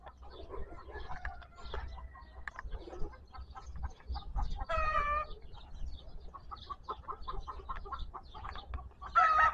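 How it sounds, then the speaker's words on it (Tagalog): Native chickens cluck and chatter in a farmyard, with overlapping calls and a louder rooster-like cry near the end, set against a low background rumble. "Daming manok dyan."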